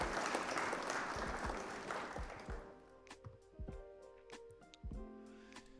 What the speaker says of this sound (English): round of applause for our opponent here